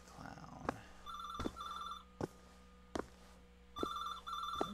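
A telephone rings in a video game, a repeated electronic trill in paired bursts over a low ambient hum, broken by several sharp knocking thumps.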